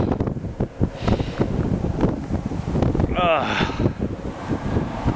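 Strong wind roars and buffets across the microphone as rain begins, with a person talking loudly over the steady gusting noise throughout.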